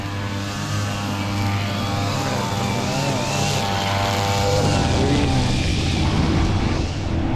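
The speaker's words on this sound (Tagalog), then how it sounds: "Bus." A large bus passing on a suburban road, heard from a bicycle: a loud, steady engine drone with tonal whine close by, rising slightly as it goes past.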